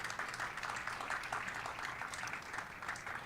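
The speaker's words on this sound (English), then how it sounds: "Let's give her a round of applause." At a school ribbon-cutting event, an audience applauds a high school librarian: a fairly faint, even patter of clapping that continues steadily throughout.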